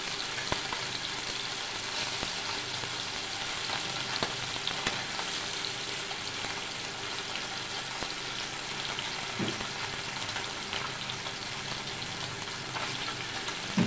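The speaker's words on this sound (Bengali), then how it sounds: "বেলে মাছ, আস্তে একটু লো ফ্লেমে করে দিই" Bele fish (tank goby) fries in a pan over a low flame, a dense, continuous sizzle and spatter with occasional faint stirring clicks, close and steady throughout.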